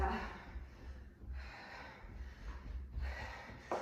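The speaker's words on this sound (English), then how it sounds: "I know you hear me breathing." Heavy, rhythmic breathing from someone doing a staircase cardio workout, close and quiet, with about three deep gasping breaths at a steady pace.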